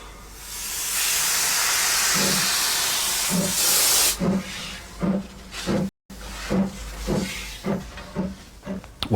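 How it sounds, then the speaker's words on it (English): A steam locomotive on the Isle of Wight railway lets out a loud, steady hiss of steam for about four seconds, then gives way to a run of rhythmic clanking beats as the train moves off. "I fell in love with the place originally because of the steam trains"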